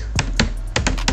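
Code being typed on a computer keyboard: a short burst of crisp key taps, a few quick clicks with a brief pause between pairs, close and clear with a low steady hum beneath and no voices.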